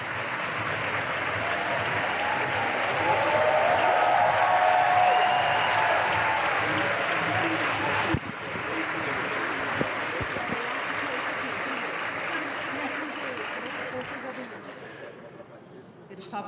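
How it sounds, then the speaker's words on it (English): Audience applause at a literary festival panel stage as two guest speakers are called forward, a broad sustained clapping wash that swells mid-way, then slowly thins and fades toward the end. "A round of applause for both of them"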